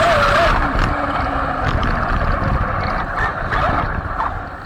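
A Traxxas Rustler 4x4 VXL RC car drives over gravel, a continuous loud whining electric motor with shifting pitch over crunching, rattling stones, recorded up close from the car's body.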